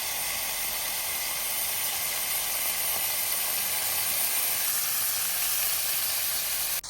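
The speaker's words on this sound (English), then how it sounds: "Got these things cooking right now in some bacon grease." Cheeseburger patties sizzle in bacon grease in a cast iron pan over a campfire, a steady, bright, continuous frying hiss close by with no voices.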